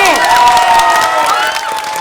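A studio audience cheers and applauds loudly and close up, a dense wash of clapping with shouts and whoops, a few high voices rising above the crowd.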